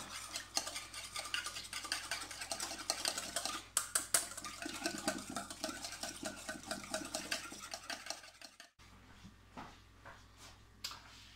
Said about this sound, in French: c'est une petite huile neutre, une huile de pépin, et on va émulsionner tout ça